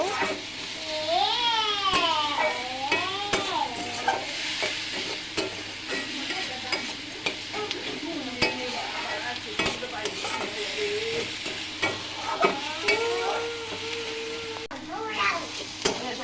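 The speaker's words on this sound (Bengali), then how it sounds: "এরপর এর মধ্যে দিচ্ছি একটু স্বাদ মতো লবণ, হলুদ গুঁড়ো, এগুলোকে মিশিয়ে নিব।" Onions and green chilies fry in a pan with salt and turmeric powder, steady sizzling under repeated spatula scrapes and knocks, while a child's wavering cries sound in the background.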